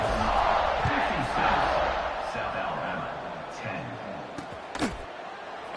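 Home crowd at a college football game in a large stadium, a steady broad roar of cheering that stays loud throughout and eases slightly toward the end, with a brief sharper burst near the close.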